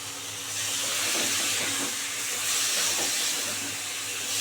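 Water poured into a pan of fried prawns cooking with pointed gourd produces a steady, airy hiss that swells and eases, heard alone without any talk.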